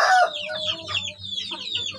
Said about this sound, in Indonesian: Dalam video kali ini saya akan memperlihatkan nih materi ayam kampung ya.